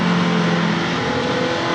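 Motorbikes ride and corner along a road with a loud, close engine drone that holds a steady pitch before shifting slightly, continuous throughout with no talk.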